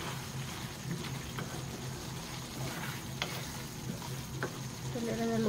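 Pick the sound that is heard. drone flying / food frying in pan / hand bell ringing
food frying in pan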